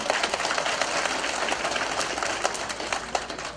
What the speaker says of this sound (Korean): 축하하는 박수입니다